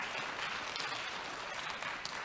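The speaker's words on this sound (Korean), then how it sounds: "다시 한번 뜨거운 박수 부탁드리겠습니다" Faint, distant applause from the audience at an academic conference session on children's songs, a soft, even patter of many hands without talk.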